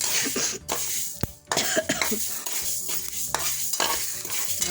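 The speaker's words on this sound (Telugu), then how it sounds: "ఇలా మెంతులు వేయించుకోవాలి ఇలా వేయించుకోవాలి" Fenugreek seeds and red chillies are dry-roasted in a pan, with stirring and scraping strokes and a faint crackle. A cough and throat clearing cut in partway through.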